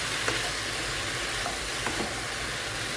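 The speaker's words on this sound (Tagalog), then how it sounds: "Igisa lang natin saglit." Sliced carrots and vegetables sautéing in a pan for fresh lumpia, a dense steady sizzle with a few light spatula scrapes, close and uninterrupted.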